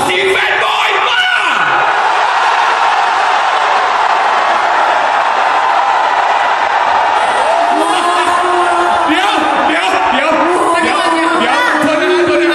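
At an Apink fan meeting in Bangkok, a crowd of male fans roars, yelling and whooping in a loud, continuous wall of shouts that swells toward the end.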